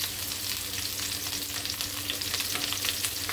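Onions sizzle steadily in hot oil for pakbet, a continuous close frying hiss with faint stirring and no voices.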